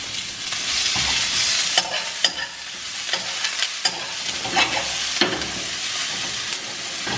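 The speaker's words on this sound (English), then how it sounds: "I think it's gonna be a really noisy spoon" A spoon stirs peppers and onions sautéing in a pan, with steady loud sizzling and frying hiss throughout and repeated sharp scrapes and clinks of the spoon against the pan.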